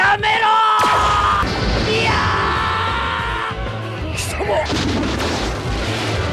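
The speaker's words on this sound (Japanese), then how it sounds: "なんなんだ今の爆発は" Anime film battle scene with a loud explosive boom and blast, followed by shouting and yelling voices over a continuous roar of action sounds.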